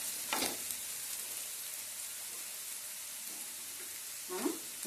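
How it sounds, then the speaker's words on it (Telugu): Onions fry in a pan of oil for mutton killi with chinta kurra, a steady quiet sizzle with a couple of brief stirring scrapes. "మనకి ఉల్లిపాయలు కూడా వేగిపోయి"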